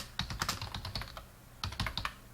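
Quick keystrokes on a computer keyboard come in two short bursts separated by a brief pause, close and crisp with no talk.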